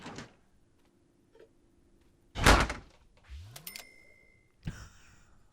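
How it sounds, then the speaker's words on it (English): Fridge door slammed in the video game The Sims 4, a loud solid thud with a burst of rattling, followed by softer game effects and another knock, no voices. "Furious fridge slamming is definitely going to lead me to break something"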